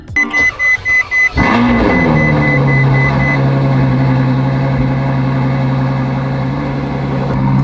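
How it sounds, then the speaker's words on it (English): Ferrari F12 cold start: a few quick starter cranks and chimes, then the engine fires with a sharp loud flare and settles into a steady, high, smooth idle that continues to the end. "This will be the last quiet cold start for this car."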